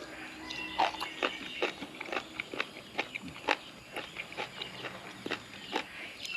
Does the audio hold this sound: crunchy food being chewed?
yes